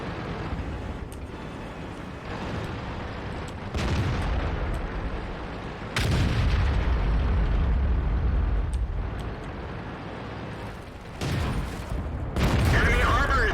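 Tank cannons firing in World of Tanks, several heavy booms spaced across the stretch with rumbling echoes in between, loud and punchy, each shot followed by a decaying roar.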